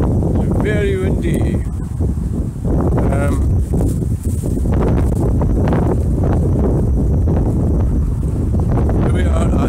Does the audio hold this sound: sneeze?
no